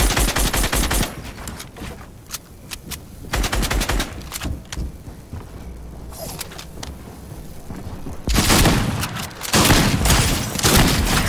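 A drum gun firing in Fortnite gives loud, rapid bursts of automatic gunfire. Several sustained volleys are separated by short pauses, with heavy booming impacts toward the end, and no one speaks.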